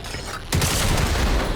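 Explosive ticks blow up from gunfire in the video game Generation Zero, a sudden loud burst that turns into sustained rumbling, crackling noise after a quieter lead-in.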